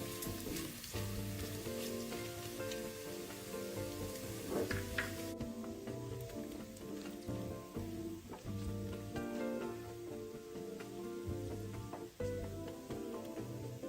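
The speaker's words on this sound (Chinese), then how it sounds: "中低火翻炒至肉片變色，邊緣一點焦香，一直到出油為止。" Sliced pork belly stir-fries over medium-low heat as the fat renders, a dense continuous sizzle and crackle close up, with spatula scrapes and tosses recurring throughout.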